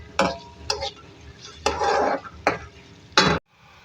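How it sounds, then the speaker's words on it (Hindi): Onions fry in a pan for a prawn, potato and Malabar spinach dish, heard as soft background sizzle broken by about five sharp scraping strokes of a spoon against the pan, each loud and close. "हमारी प्याज फ्राई हो रही है"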